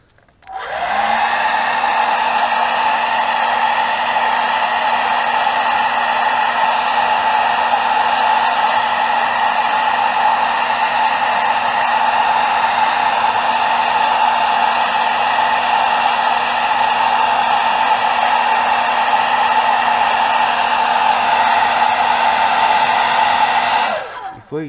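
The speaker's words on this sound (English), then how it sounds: "let's heat set this" A hot-air dryer heat-sets custom paint on a bluegill crankbait fishing lure, giving a loud, steady whirring blow for over twenty seconds that starts and stops abruptly.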